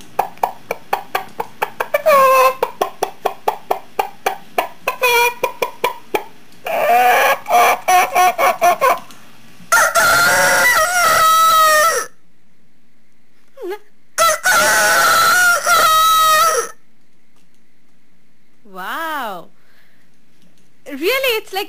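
A voice imitates a rooster crowing in a live mimicry act for Hyderabad radio, giving a run of loud rising-and-falling crows and clucks in bursts, separated by short pauses.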